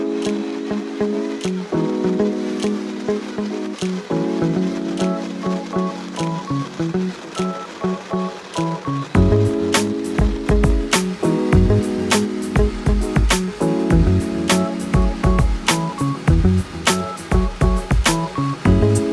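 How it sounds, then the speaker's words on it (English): A blender blends a smoothie in a kitchen, a loud, continuous whir with rhythmic pulsing and a sharp step up in intensity about halfway through, with no talk. "let's blend it up"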